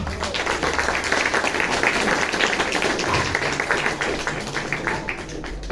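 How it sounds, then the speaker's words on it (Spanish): An audience at a poetry book launch applauds after a poem is read, a thick, sustained wash of many clapping hands at close range, steady for several seconds with a light crowd murmur beneath. "¡Aplausos!"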